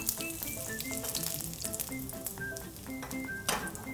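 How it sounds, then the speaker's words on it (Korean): A fried egg sizzles and crackles in hot oil, fried the deep-fry way, with dense continuous spatter and small pops close by, no voices. "튀기듯이 하는 달걀 후라이"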